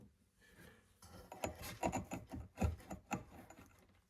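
An Excalibur flour mill grinding rice on a fine setting, giving a steady rasping, gritty churn with rhythmic bursts that swell and fade up close, no talking.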